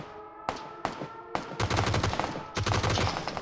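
Rapid gunfire cracking around and hitting the player in the PUBG game on Karakin, a few sharp single shots followed by dense bursts of automatic fire, close and loud.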